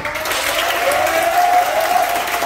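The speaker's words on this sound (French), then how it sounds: "Donc, applaudissez!" Brief burst of audience applause for a performer's first time on stage at a live show, dense and continuous with a tonal voice or whistle riding over the clapping.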